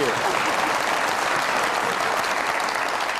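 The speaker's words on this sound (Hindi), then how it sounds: "बहुत सारी तालियां मुशर्रफ साहिबा के लिए" Studio audience of a Mazaaq Raat comedy talk show breaking into loud, thick applause, a continuous close roar of clapping with no voices over it.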